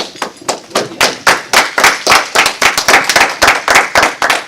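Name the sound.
hand clapping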